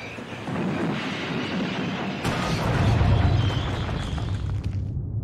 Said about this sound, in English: His driver reduced steam and braked hard.